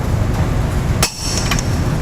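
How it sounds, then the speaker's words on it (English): A torque wrench gives a single sharp metallic click as it reaches torque while tightening trailer hitch bolts on a 2013 Chevy Cruze, close and brief against a low background hum. "it'll make a clicking sound"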